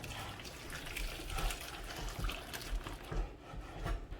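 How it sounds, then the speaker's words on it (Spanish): Beef tripe cooking broth is strained, giving a close, steady pouring and trickling of liquid with soft rustling and dripping throughout. "Ahora el caldo donde cocinamos el mondongo lo vamos a colar"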